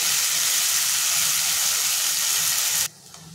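A mixed sprout curry masala sautéing in a pan gives a steady, loud, close sizzle and hiss that cuts off abruptly near the end, leaving quiet, with no voices.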